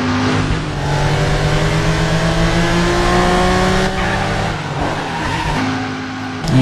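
A car engine revs hard in the video game Driver San Francisco, with a loud, continuous roar and tires squealing and skidding as the back end slides out, no talking.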